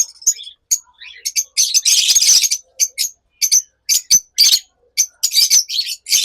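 Pet lovebirds, violet wing opaline pairs, give repeated sharp chirps and harsher squawks in quick close bursts, loud and busy with brief gaps.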